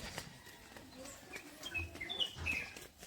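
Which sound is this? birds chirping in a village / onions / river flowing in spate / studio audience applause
birds chirping in a village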